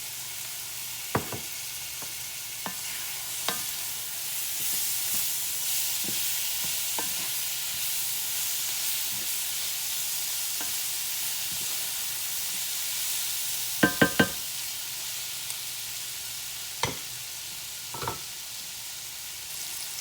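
Tomatoes sizzle as they go into a hot skillet with squash, a steady close frying hiss broken by scattered sharp clicks and scrapes of stirring utensils against the pan.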